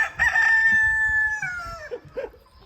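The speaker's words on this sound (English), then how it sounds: "all the chickens that are gathering around talking" A rooster crows nearby in a backyard, a long drawn-out call, while hens cluck softly around it.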